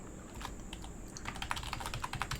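Fingers type on a computer keyboard in a steady, fast patter of light clicks, close and fairly quiet, with no talking.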